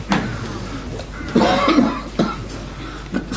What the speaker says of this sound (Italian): Scusate le tosse.